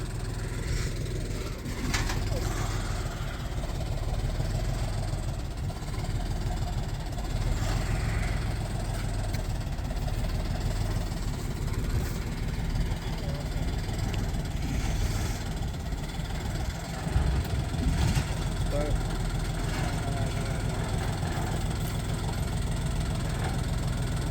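A small tractor idles with a steady low engine rumble as it is driven down off a trailer onto the ground, the motor holding an even, continuous drone throughout with faint outdoor background.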